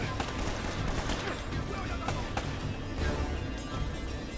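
Gunfire from an AK rifle in the video game Uncharted: Drake's Fortune: a dense, continuous clatter of shots and battle noise that stays fairly loud throughout, with no clear gaps.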